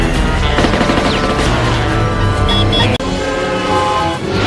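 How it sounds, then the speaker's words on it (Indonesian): Dense, continuous rattling gunfire from a helicopter in a film, with a loud mechanical rotor roar underneath, heavy and close, barely broken by a brief dropout. "pasukan Elliot juga mengejar mereka menggunakan helikopter dan menembakinya dari atas."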